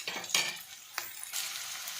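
Onions frying with turmeric and spices in a pan for a fish curry, stirred with a utensil: steady close sizzling broken by several sharp scraping strokes against the pan, with no voices.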